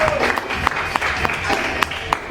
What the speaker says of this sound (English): please give a round of applause for Vitaly!